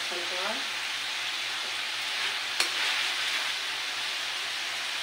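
Menudo being stirred in a cooking pot, a steady close sizzle with soft scraping that runs the whole time and one sharp knock near the middle; a voice is heard briefly at the start.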